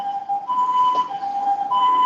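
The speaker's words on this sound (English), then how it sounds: "You got sirens" Emergency vehicle siren wailing in rising and falling tones, loud and alone with no voices, sounding close.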